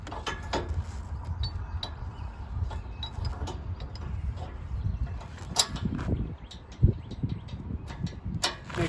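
Metal clicks and clunks of a Blue Ox tow bracket locking pin being handled and snapped into place, several sharp close clacks scattered over a low outdoor rumble, with someone talking at times.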